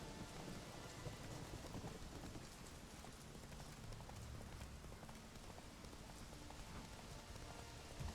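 Roach the horse galloping in The Witcher 3, hooves clip-clopping steadily through a dense, rain-like wash of game ambience that fills the whole stretch at an even level.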